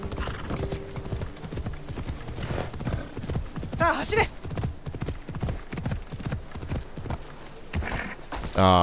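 Horse hooves pound in rapid, continuous clip-clop in Assassin's Creed Shadows, loud and close, with a brief whinny midway and someone talking over the galloping.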